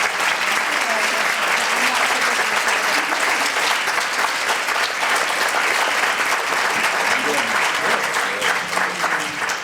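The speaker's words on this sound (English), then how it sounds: "Let's give him a big round of applause." At a children's summit in Marin, a crowd gives steady, loud applause as a guest speaker takes the stage, dense clapping filling the whole stretch with faint voices underneath.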